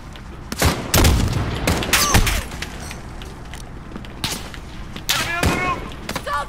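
Gunfire in the video game Call of Duty Modern Warfare: loud, close bursts of sharp shots and heavy thumps come in irregular clusters, with game voices briefly heard between volleys.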